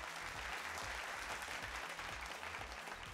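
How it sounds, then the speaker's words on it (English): Dense, continuous applause from the audience at a televised inter-school quiz contest fills the room, even and loud throughout with a low background hum beneath. "So I think that deserves a big round of applause to Ben Duri from Musaeus College."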